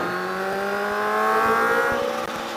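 A 2019 Kawasaki H2 Carbon supercharged motorcycle pulling hard in third gear, its engine note climbing steadily in pitch as it accelerates, loud and continuous from start to finish with no talk.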